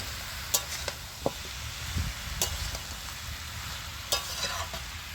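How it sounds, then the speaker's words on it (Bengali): Vegetables for a fish-head pumpkin ghonto are stirred in an uncovered pan, a steady soft sizzle broken by several sharp spatula scrapes and clicks against the metal. "ঢাকনাটা খুলে আমি সবজিগুলো জড়ে দিচ্ছি।"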